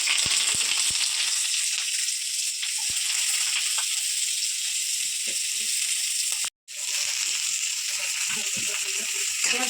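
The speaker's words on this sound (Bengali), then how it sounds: "পেঁয়াজটা একটু ভাজতে হবে বলে তেল গরম হয়ে গেছে পেঁয়াজগুলো দিয়ে দেবো" Onions frying in hot oil give a continuous bright hiss and sizzle close up, with a few soft clicks and a brief drop to near silence partway through.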